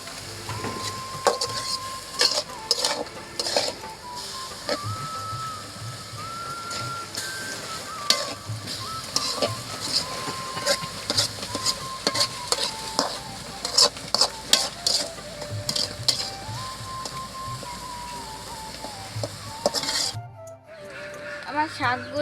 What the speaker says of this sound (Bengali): আমি এভাবে ভালোভাবে নাড়াচাড়া দিয়ে শাকগুলো ভালোভাবে নাড়াচাড়া দিয়ে সিদ্ধ করে নেব